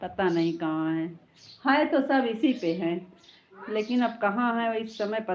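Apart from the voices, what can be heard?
None of the usual background noises is heard.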